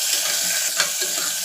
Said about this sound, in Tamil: கடுகு சீரகமெல்லாம் நல்லா பொரிஞ்சு வந்துட்டு வெங்காயம் போட்டுக்கலாம்.